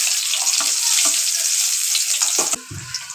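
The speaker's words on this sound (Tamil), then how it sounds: "எல்லாம் ரோஸ் ஆன பிறகு ரசமாக தாளித்து" Dal and garlic fry in hot oil for a rasam tempering, giving a dense, continuous sizzle with light stirring clicks close by, easing off near the end.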